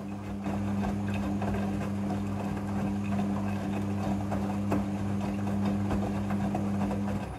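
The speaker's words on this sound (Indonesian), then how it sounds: "Mesin cuci front loading sudah full automatic dalam mencuci." A Midea front-loading washing machine runs with a steady low motor hum and faint sloshing and clicking, a constant droning tone that stays even throughout at moderate level.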